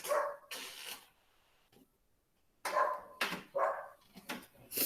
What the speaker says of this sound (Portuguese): tem um cachorro aqui no quintal e um vizinho fazendo tanto barulho